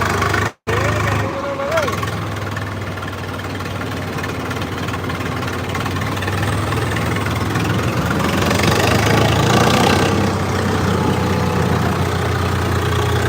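Tractor engines idle with a low, steady rumble and mechanical knocking beside the Ghaggar river, growing slightly louder toward the end, with voices talking over them.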